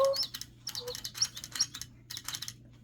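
A motion-activated toy bird chirps in quick electronic bursts, a string of short tweets and trills in uneven clusters, fairly quiet and close, with a low hum beneath.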